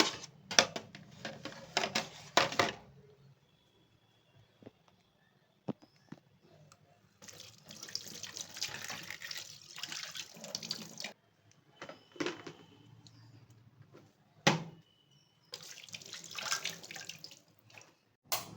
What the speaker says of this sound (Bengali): যাই টুকটুক করে প্লেটগুলোকে ধুয়ে নিই